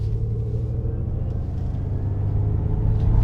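Electric Ford Mustang accelerating on the road, a steady low rumble of motor and tyre noise building slightly in loudness over a few seconds, heard from inside the cabin with no talk.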